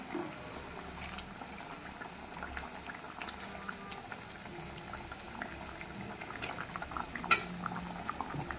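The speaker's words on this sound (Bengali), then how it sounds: "মাছগুলো দিয়ে দিয়েছি বন্ধুরা, একটু সামান্য ফুটাবো" Fish simmering in a pot of liquid on the stove give off a steady, quiet bubbling with small clinks, continuous and unbroken, with no one speaking.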